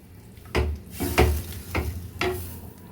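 Tomatoes sauté in a pan for a tomato rasam soup, a soft sizzle broken by four distinct scraping strokes of a spoon at a steady pace, close and without talk.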